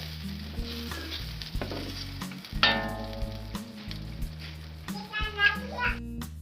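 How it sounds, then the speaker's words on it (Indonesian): Bay leaves and lemongrass stir-fried into semur jengkol spice paste, with a steady sizzle and the clatter of a spatula stirring in the pan, while children's voices sound faintly in the background. "Selanjutnya kita masukin daun salam, kita masukin serai ya, kita oseng-oseng."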